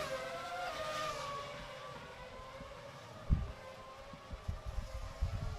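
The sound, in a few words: V10 race cars driving by in Second Life game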